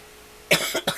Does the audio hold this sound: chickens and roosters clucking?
no